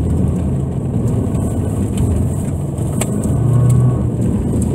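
Subaru Impreza engine at an ice racing autocross, a steady loud drone heard from inside the car with slight rises in pitch, no talking.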